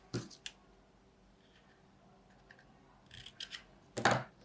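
Scissors snipping wire for a handmade 3D fairy boutique light-up card: a couple of sharp close clicks at the start, then a louder crisp cut near the end over a quiet room.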